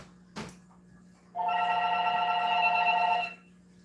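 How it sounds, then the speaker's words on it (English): A telephone rings once in a steady, bright electronic tone lasting about two seconds, preceded by a short click, heard indoors during a live tarot reading with low background hum. "Why are people calling my phone in the middle of a reading?"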